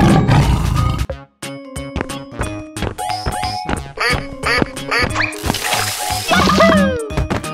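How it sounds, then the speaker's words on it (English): A cartoon tiger roars loudly among sharp, clustered cartoon quacks and splashy effects, with brief bursts and gaps that keep a busy, choppy rhythm. "Tiger."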